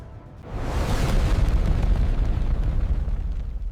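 A hypersonic missile strikes its target in a massive explosion: a sudden heavy roar after half a second of quiet that swells into a sustained rumbling boom and keeps thundering to the end.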